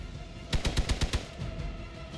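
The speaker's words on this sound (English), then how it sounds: "firing shots and taking shots, so many shots at us" A quick burst of machine-gun-style gunfire in the video game Marvel's Midnight Suns, about six sharp evenly spaced shots in under a second, moderately loud over a low background rumble.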